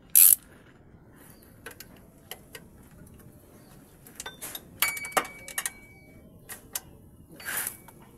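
A 14 mm socket ratchet clicks in short bursts of pawl ticks while loosening a bolt low on a 9th-generation Toyota Corolla engine during a water pump replacement, close and sporadic, with a couple of brief louder knocks.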